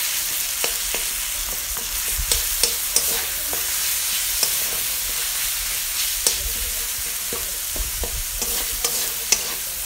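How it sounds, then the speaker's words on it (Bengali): Turmeric and cumin powder fry in a pan for a Bengali-style egg curry, with a steady low sizzle broken by repeated sharp spoon scrapes and taps. "আবারও একটু ভালো করে নেড়ে নেব।"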